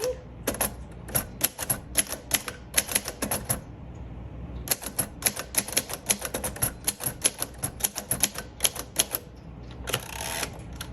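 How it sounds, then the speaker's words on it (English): Someone types steadily on a 1950 Royal Quiet Deluxe manual typewriter: dense runs of crisp key strikes with brief pauses, and a ratcheting carriage sound near the end. "let's do some typing"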